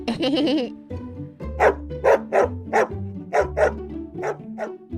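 A neighbor's dog behind a gate in an animated cartoon barks repeatedly in a steady run of sharp, loud barks close by, preceded by a drawn-out whining cry.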